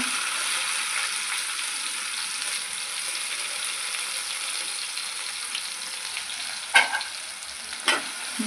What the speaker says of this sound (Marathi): कांदा छान परतवून घ्यायचा।